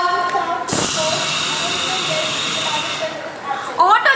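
A human voice imitates a silent, eco-friendly electric auto-rickshaw at a Kerala State CBSE school arts festival mimicry performance, giving a steady airy hiss for about two seconds before a few fainter sounds and squeaks.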